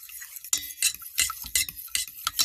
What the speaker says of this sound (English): Now I'm going to incorporate them, beat them in, and incorporate this very well before I add the brownie mix.